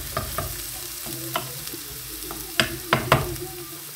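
Chopped onion frying in a pan on the stove, a steady sizzle broken by sharp clinks and scrapes of a spoon stirring, several louder knocks near the end.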